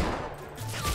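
Fortnite gunfire, a short burst of rapid shots from the video game during a minigun fight, crackles through a brief moment of game audio.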